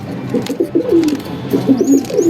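Baby pigeons coo and squeak during feeding, a close run of soft, wavering calls that comes in two bursts with a faint higher whistle near the end.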